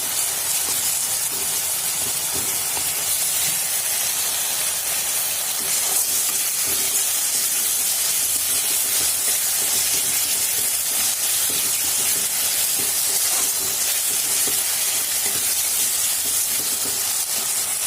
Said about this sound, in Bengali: দেখো কষানো হচ্ছে, আর একটু জল দিয়ে আর একটু করবো।